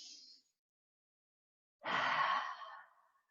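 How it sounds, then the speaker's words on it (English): A deep, slow exhale during a guided yoga breathing exercise, a single long breathy rush of air that fades out after a short silence, close and soft, with no talk over it. "We'll do just a couple more breaths like that."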